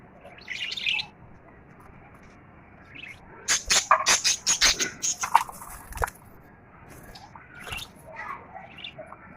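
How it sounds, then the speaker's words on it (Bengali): A captured house sparrow, held in hand indoors, chirps in a quick run of sharp, bright tweets, close up, with a few softer calls before and after and low voices faintly in the background. "দেখতে পাচ্ছেন চড়ুই পাখিটি আমি ধরেছি"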